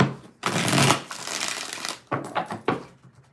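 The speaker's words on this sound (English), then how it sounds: "Let's get 5 shuffles here." Tarot cards being shuffled by hand: a long riffling burst followed by several shorter, separate shuffles, close and fairly loud with no talking.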